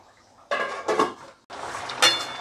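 A metal lid goes back onto a pot of Bhola fish curry with two bursts of ringing clatter and a scrape, close and fairly loud.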